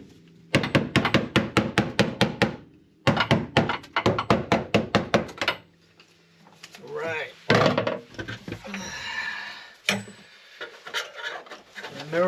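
A hammer chips brittle frozen sound deadening off a car floor in two fast bursts of close, hard knocks, followed by scraping and rubbing as pieces come loose, with a voice talking over the later part.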